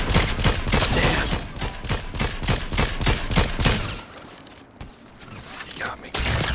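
Rapid gunfire crackles in a first-person shooter match. A quick, loud string of shots runs for about four seconds, then it thins to scattered quieter shots and game noise.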